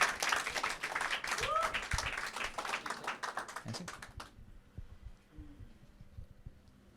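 Scattered applause from a small open mic audience fills the first four seconds, dense and fairly close, then cuts off abruptly, leaving faint room noise.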